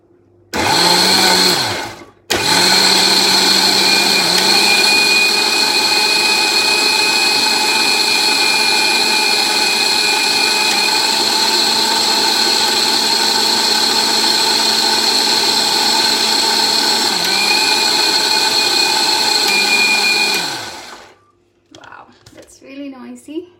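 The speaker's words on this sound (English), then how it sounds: "So you're gonna blend them together completely." A countertop blender whirs loudly and continuously for nearly twenty seconds, mixing a grain-free, gluten-free spinach wrap batter. It starts with a brief burst, then a short pause, then a long steady run that winds down at the end.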